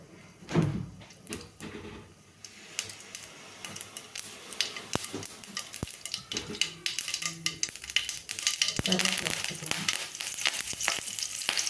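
Mustard seeds fry in hot oil for a tamarind chutney, building into a busy crackling sizzle with sharp pops, clattering utensil knocks and handling noises nearby.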